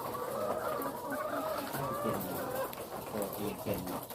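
Egg-laying hens on a Thai farm cluck steadily and fairly close in a continuous busy chorus, with occasional sharper calls over a noisy outdoor background.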